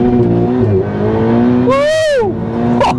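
A Ferrari 488 launching hard from a standstill in launch mode, its loud engine roar holding steady before sweeping sharply upward as it accelerates toward 60 mph, close to the listener inside the car.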